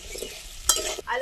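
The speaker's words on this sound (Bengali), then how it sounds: "আমরা আলুটা একটু ভেজে নেবো" Potatoes fry in mustard oil in a wok, a brief close sizzle punctuated by a sharp scrape of stirring partway through.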